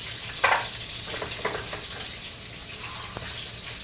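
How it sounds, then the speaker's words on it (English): Strips of bacon in a little oil sizzle in a pan with a steady, bright hiss, broken by a few sharp pops and crackles near the start and again toward the end. "So here you go, bacon, a little bit of oil, cooking in a pan."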